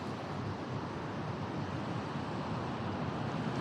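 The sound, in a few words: big waves around a boat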